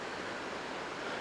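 A mountain stream near the Ajanta Caves gives a steady, even rush of flowing water, faint and unbroken, with no voices.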